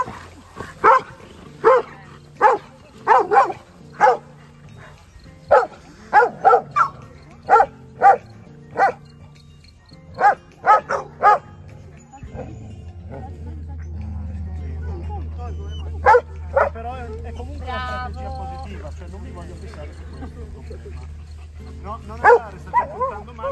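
A German shepherd barks sharply and repeatedly in irregular clusters, loud and close, with a low steady rumble in the background during the middle stretch.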